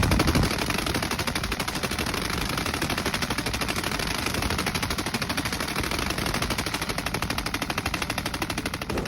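Sustained automatic fire from an MG3 machine gun during a Bundeswehr exercise: a rapid, continuous stream of loud shots for about nine seconds, with no voices.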